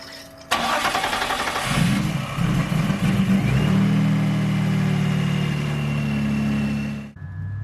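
BMW E46 with an M54 engine cranks and catches, then settles into a steady, close idle for several seconds before cutting off abruptly.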